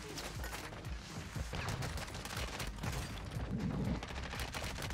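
Rapid automatic gunfire from a Warzone video game, a dense run-and-gun burst of fast repeated shots that barely lets up, loud and continuous, with no talk over it.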